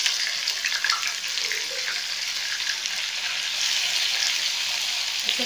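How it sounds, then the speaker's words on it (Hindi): Onions sizzle in hot oil with cumin seeds in a tempering for dhaniya paneer biryani, a steady, close frying hiss that holds at an even level throughout with no talking. "इसमें मैं प्याजें डाल दूंगी, साथ ही मैं पीसी हुई प्याज डाल दूंगी।"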